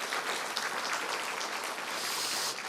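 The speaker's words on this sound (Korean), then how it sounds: "박수 한번 보내주시죠" A steady wash of audience applause, many hands clapping together at a constant level throughout, with no speech over it.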